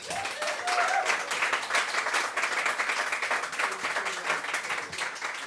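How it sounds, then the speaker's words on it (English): An audience claps for open mic performers at a poetry and music show, steady, dense applause sustained for several seconds at moderate volume without talk. "Can we give another round of applause for all of the open micers?"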